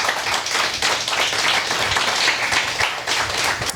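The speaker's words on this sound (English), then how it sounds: "We need to give all of them a round of applause for all the work that they do." A crowd claps in steady, dense applause that stays loud and even for the whole stretch, with no voices rising above it.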